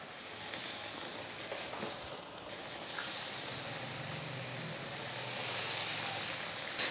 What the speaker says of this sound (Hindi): इनको अब हम ऑयल में फ्राई करते हैं।